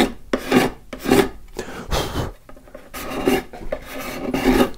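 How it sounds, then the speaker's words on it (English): A hand scraper works across a wooden flower planter being smoothed for finishing, with repeated rasping strokes in an uneven rhythm, close and fairly loud, with short pauses between passes. "and start the scraping?"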